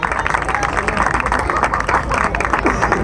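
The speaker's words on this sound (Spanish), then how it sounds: "fuerte aplauso para Floor Knights" Clapping and cheering from a crowd at a swing dance battle for the crew Floor Knights, dense and sustained throughout with babble mixed in.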